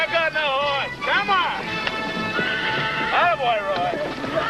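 A horse neighs and whinnies repeatedly with quick clip-clopping hooves beneath, close and loud throughout.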